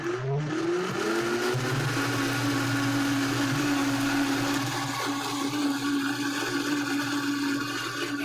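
A Vitamix E310 Explorian blender runs continuously while making a smoothie, a loud steady motor whine with churning liquid that starts with a brief pitch rise and then holds a constant drone, with no talking.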